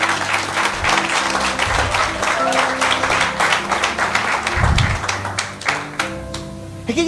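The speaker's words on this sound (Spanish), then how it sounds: "Aplaude el nombre de Jesús." A church congregation applauding during a family service, sustained loud clapping from many hands with a few low thumps and voices mixed in.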